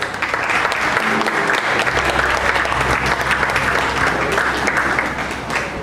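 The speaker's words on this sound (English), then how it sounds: "please go ahead and give yourselves a round of applause" Rotarians at a 60th anniversary and installation banquet applaud themselves, a steady, dense round of clapping filling the room at even volume throughout.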